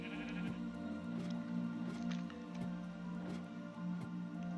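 A sheep bleats repeatedly in Minecraft, several short bleats at an even rhythm over a steady humming game background, with no talk.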